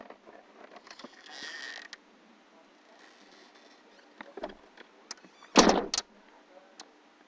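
A door is opened with creaks and mechanical clicks, followed by a louder rattling thump near the end, heard close in a quiet room.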